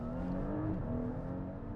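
2025 Audi S5 engine revving after a downshift into first gear, a steady, moderately loud engine drone with a rising and falling tone, heard from inside the car with no talking.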